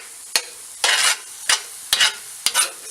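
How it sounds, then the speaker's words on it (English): A metal spoon scrapes and stirs in a cast iron pan with bursts of hissing sizzle, five or six quick scrapes at an irregular pace, close and clear with no speech. "you're going to hear the scratching of my spoon"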